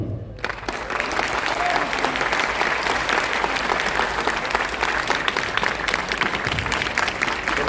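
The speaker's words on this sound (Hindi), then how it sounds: "जोरदार तालियां" Loud, sustained applause from a large crowd, steady clapping filling the whole stretch after a brief silent start.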